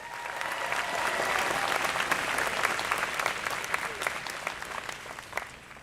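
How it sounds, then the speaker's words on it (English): A crowd at the Santa Susana High School graduation breaks into applause for the incoming superintendent, a thick run of clapping that swells, holds with scattered sharp claps, then tapers near the end. "Let's give him a round of applause."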